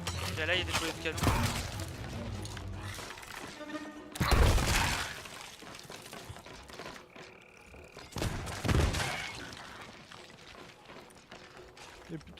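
Cannons fire in the pirate video game Sea of Thieves: two heavy booms several seconds apart stand out over quieter game sounds and background tones.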